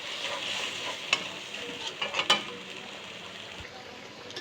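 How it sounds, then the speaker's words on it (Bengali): Masala for prawn malai curry sautéing in oil until the oil separates, a bright steady sizzle with a few quick spoon scrapes and clinks, close up and with no talking. "আমার কষানোটা কত সুন্দর হচ্ছে। তেলটা আস্তে আস্তে ছেড়ে দিচ্ছে।"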